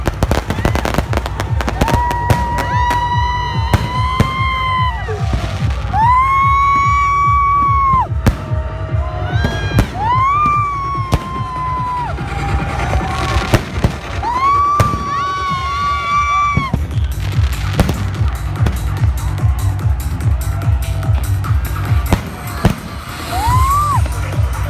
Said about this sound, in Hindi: रात को कर्लीज के आगे अमेजिंग आतिशबाजी होती है